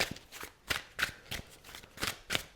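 Old Style Tarot cards being shuffled by hand, crisp riffling bursts repeating about every half second, close and fairly quiet with no talk.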